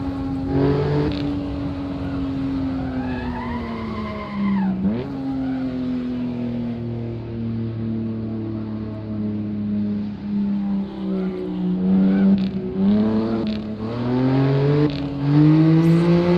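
A BMW M4 race car engine in Assetto Corsa whines and revs continuously, its pitch climbing and dipping through gear shifts, loud and close.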